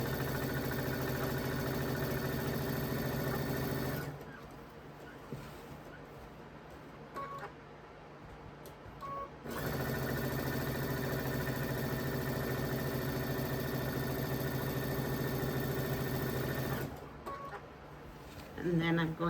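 A sewing machine stitches a quilt border down, its motor running in long, steady, loud stretches broken by a couple of short pauses while the fabric is repositioned.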